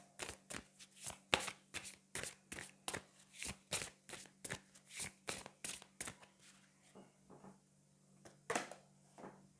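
Oracle cards from the Magic of You deck being shuffled, a rapid run of crisp card riffles and flicks in steady rhythm, close and fairly quiet, with a few slower draws near the end and no talking.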